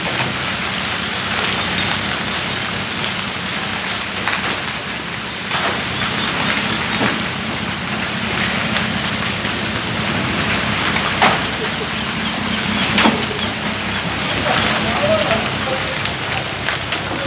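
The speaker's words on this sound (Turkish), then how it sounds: "Bir benzinlikteyiz ve dolu yağışı başladı." Hail pours down at a petrol station in a village near Vezirköprü, Samsun, a steady dense clatter and hiss on surfaces with occasional sharper hits, loud and continuous throughout, with a voice talking over it.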